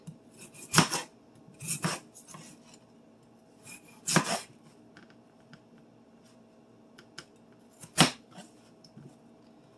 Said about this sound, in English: Let's go ahead and cube the potatoes now that they are peeled and rinsed.